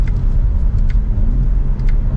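A 2025 BMW M4 Competition xDrive drones while driving, its engine a loud, steady low rumble close up from inside the car, with faint ticks and clicks above it and no talk.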